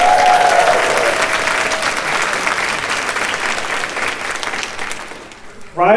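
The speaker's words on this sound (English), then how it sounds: "So give a round of applause for Omeji" A crowd applauds the winner at a gaming tournament closing ceremony, a dense wash of clapping that stays strong and then gradually thins out, ending with a brief voice.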